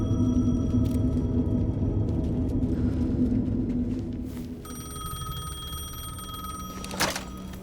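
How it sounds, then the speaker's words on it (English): A payphone ringing in the video game Alan Wake 2, a repeating electronic ring over a heavy low ambient rumble, with a sharp clack near the end. "The payphone was ringing."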